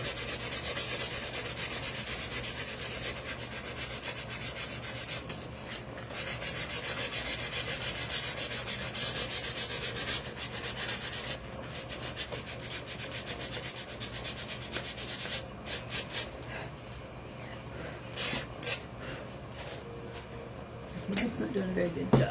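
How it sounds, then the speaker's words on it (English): A wooden sign's edges are sanded by hand in a steady, continuous rubbing rasp that stays close and fairly loud throughout, easing off toward the end with a few sharper scrapes, while a voice talks now and then. "And I'll take this. And let's sand it down a little bit. So I want to sand the edges."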